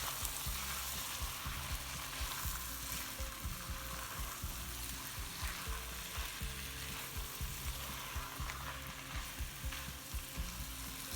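Potatoes with cumin and turmeric fry gently in a pan, giving a steady, even sizzle broken by soft rhythmic stirring scrapes. No voices.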